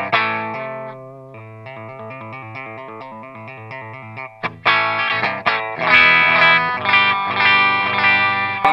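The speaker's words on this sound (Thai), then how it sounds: "อันที่3เป็นไฮเวย์ร้อยนะครับอันนี้ก็น่าจะมาจากแอมไฮวัตประมาณนะครับเป็นไฮวัต1978ไฮวัต DR 103" Electric guitar played through a Line 6 POD HD500X on its Hiwatt 1978 DR103 amp model, starting with clean arpeggiated notes, then shifting to loud, dense strummed chords with distortion and chorus coloring, with no voice.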